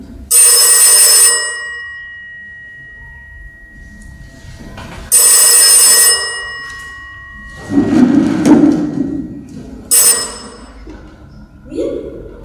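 A telephone bell rings loudly in three long bursts separated by pauses, with a shuffle or handling noise between them and a brief voice at the end.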